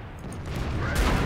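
Tank cannon fire in World of Tanks, a heavy boom swelling near the end over a steady low rumble of battle noise, with no voices.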